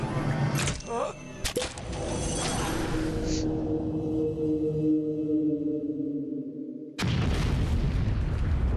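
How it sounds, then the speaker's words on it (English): A loud explosion from Metal Gear Solid 3 bursts at the start, then a long droning, ringing tail fades before another sharp burst of game sound near the end. "Why does everyone keep fucking exploding?"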